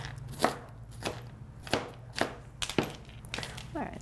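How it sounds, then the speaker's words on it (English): Food being chopped into small bite-size pieces on a cutting board: sharp knife knocks landing at a loose, steady pace, fairly close and clear, with faint rustling between strikes. "you're going to chop it into little small pieces, bite size"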